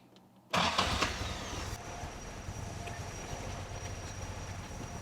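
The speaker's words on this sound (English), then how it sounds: "so I started the engine" A 1964 Triumph TR4 engine cranks and catches with a sudden loud burst, then settles into a steady, rough idle that continues for several seconds, heard up close with no talking.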